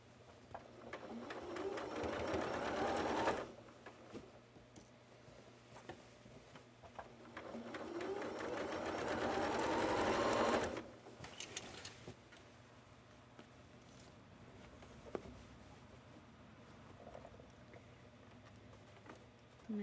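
Sewing machine stitching a sleeve onto a quilted coat, running in two steady bursts of rapid mechanical whirring, each about three seconds, then stopping, leaving quiet room noise with occasional soft clicks and handling sounds.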